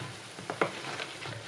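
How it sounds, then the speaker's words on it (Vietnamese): Three-egg pastry (bánh 3 trứng) fries slowly in hot oil, giving a steady, gentle sizzle with a few louder crackles and bubbling pops, heard close and alone. "Mình chiên chậm chậm, bánh nó sẽ giòn nhiều."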